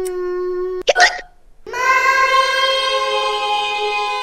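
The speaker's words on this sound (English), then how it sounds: "The hiccups are not going." A cartoon child hiccups once, a short sharp burst set between sustained tonal sounds before and after.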